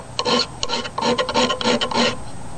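Rough rasping scrapes of a restored metal file skidding on the workpiece, several quick strokes in a row, close and fairly loud with brief gaps between them.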